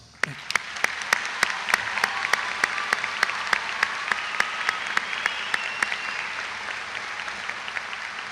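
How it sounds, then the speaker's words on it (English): Commencement audience applauds top academic students, steady crowd clapping with strong, regularly spaced claps standing out near the mic before easing off. "we want to give them one more round of applause"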